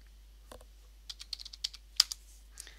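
A password typed on a computer keyboard on a Linux machine, a short run of light, quiet key taps at an uneven pace, close and alone.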